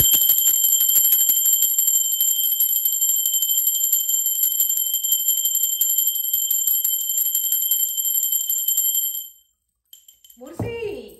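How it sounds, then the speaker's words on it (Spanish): A bell rings in a continuous bright, metallic ringing that holds steadily for about nine seconds and then stops abruptly, followed by a brief voice. "Ahora sí, va campana."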